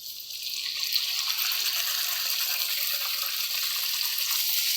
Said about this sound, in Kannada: ಇವಾಗ ಎಣ್ಣೆ ಕಾದ್ಮೇಲೆ ಪೂರಿ ಹಾಕ್ತಾಯಿದ್ದೀನಿ.